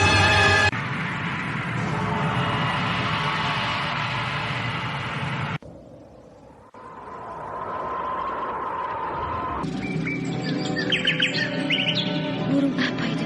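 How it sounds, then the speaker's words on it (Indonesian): Bright, continuous birdsong of the Kinara bird in a radio drama, loud and close, with layered chirps and tweets over a steady background that briefly dips before the song returns fuller. "Oh, suara burung itu bagus sekali"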